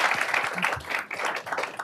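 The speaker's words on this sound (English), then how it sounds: "And let's give them applause." A conference audience applauds panelists at a U.S.-Africa tech session, a short burst of close clapping with a faint murmur mixed in.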